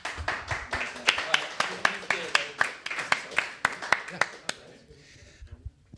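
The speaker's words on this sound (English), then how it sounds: "applause." Applause at a one-day TeleHash event supporting the 256 Foundation: a round of scattered, crisp hand claps from a modest audience, loud at first, then thinning and fading out after about five seconds.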